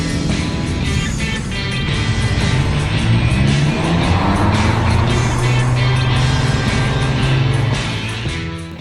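A manual rear-wheel-drive car drives on a road, its engine note loud and close, droning and rising steadily as it accelerates, with continuous road and wind noise throughout.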